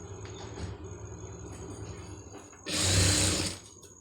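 A sewing machine stitches the side seam of a chudithar, a soft rhythmic hum followed by a louder, close burst of fast running for about a second before it eases off.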